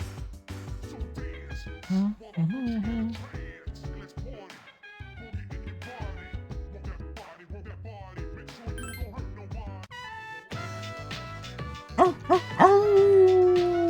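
A dog in Persona 3 Portable barks and yips several times over looping game music, with character voices speaking around the barks.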